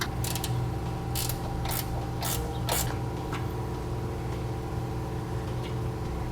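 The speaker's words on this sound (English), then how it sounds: "We have a 12mm bolt here at the top. We can take that off with a ratcheting wrench." A ratcheting wrench removes a 12mm bolt on a 2008 Honda CR-V, giving several quick bursts of clicking over a constant low mechanical hum. The clicks come close, then die away into the steady background.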